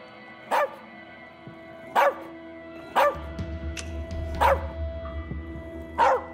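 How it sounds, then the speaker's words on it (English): A nervous dog barks in the video game As Dusk Falls, five sharp single barks spaced about a second and a half apart, loud and close, with a low rumble underneath from about halfway through. "He's a dog. He doesn't have an off switch."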